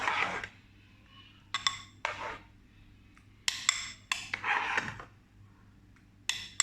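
Metal spoon scooping and clinking against a bowl while portioning pâte à choux batter, with sharp separate taps and scrapes spread over a few seconds, close and clear in a quiet kitchen.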